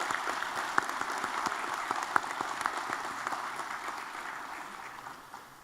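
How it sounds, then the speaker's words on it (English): Audience at a county swearing-in ceremony giving a round of applause, a broad even wash of many hands clapping with a few sharper claps standing out, slowly fading toward the end. "let's give a round of applause"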